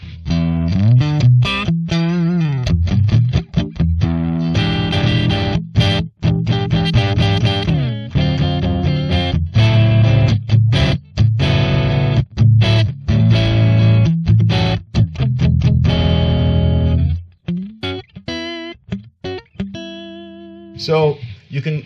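Distorted electric guitar played with palm muting, chugging bursts of tightly damped, crunchy notes in steady rhythm with some let-ring chords, loud and close, ending with a few sparser plucked notes.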